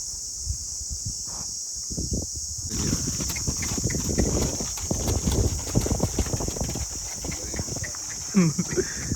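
Rhythmic clip-clop of horse hooves on hard ground in Botad, Gujarat, close by, with a high steady insect drone throughout and brief voices near the end.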